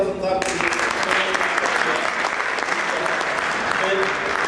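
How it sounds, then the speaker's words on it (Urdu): An audience applauds at a minorities alliance oath-taking ceremony. After a brief moment of speech, dense, loud clapping fills the rest and continues without a break. "تو بڑی تالیاں ریاض الحسن صاحب کی."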